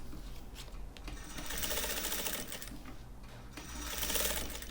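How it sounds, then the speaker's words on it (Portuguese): Sewing machine stitching the outer side panels of a small handbag to its lining, a fast continuous mechanical rattle in two bursts with a brief slowdown between, fairly close and alone. "eu vou costurar, fixar a nossa parte de fora das duas laterais no forro"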